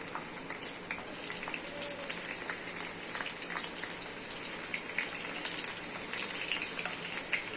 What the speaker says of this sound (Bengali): এর মধ্যে আমি প্রথমে দিয়ে দিচ্ছি পেঁয়াজের স্লাইসগুলো